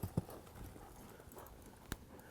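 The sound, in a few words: horse hooves as a cutting horse mare backs up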